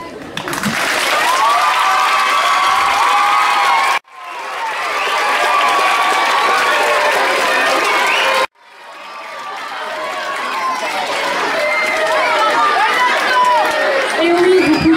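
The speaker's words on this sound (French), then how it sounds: "vous pouvez l'applaudir très fort, c'était Nathan" Sustained applause and cheering from a middle-school audience in a courtyard for a student's slam performance, in three loud continuous stretches separated by abrupt cuts, with voices and whoops mixed into the clapping.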